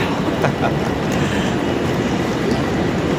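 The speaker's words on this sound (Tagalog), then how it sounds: "Nandito na ang ating tren at nang makasakay na" A train pulls into a busy station, a broad steady roar and rumble of wheels and carriages filling the whole moment, loud and close with no clear voices above it.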